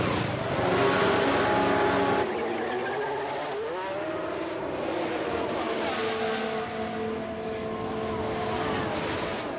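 In the racing game F1 Manager 2022, Verstappen's Formula 1 car drives into the pit lane. Its engine whines loudly at first, then drops to a lower droning hum as it rolls along at reduced speed.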